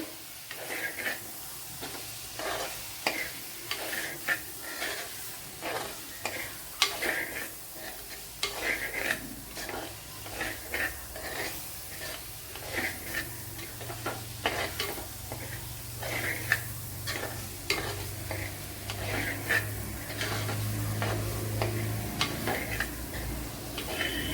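Spice powders stirred and roasted in a pan while cooking a kovakka (ivy gourd) dish: a steady scraping stir with light sizzling and repeated spoon taps against the pan, close and moderately loud, with no talk.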